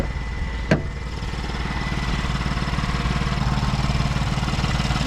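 A Ford Transit van engine idles steadily with a low, rhythmic chugging throb, close by, after a brief sharp click near the start.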